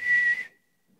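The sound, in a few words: whistle blown once to call a dog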